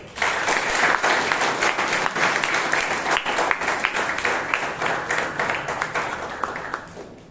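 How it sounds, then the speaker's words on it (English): A room full of people at a Toastmasters club meeting in Bangalore gives a long round of applause that starts strong and gradually tapers off. "a big round of applause for, wait, Madam Toastmaster Chaitra and Toastmaster Vivek"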